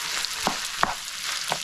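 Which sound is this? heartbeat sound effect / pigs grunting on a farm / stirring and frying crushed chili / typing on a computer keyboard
stirring and frying crushed chili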